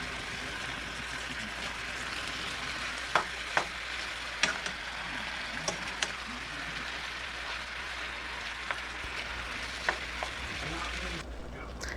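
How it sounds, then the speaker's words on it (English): Ground meat for a shepherd's pie sears in a pan with a constant crackling sizzle, while a utensil stirs and chops it, adding occasional sharp scrapes and taps close by. "Now I'm going to go ahead and mix the meat up and, try to get it chopped down into smaller pieces"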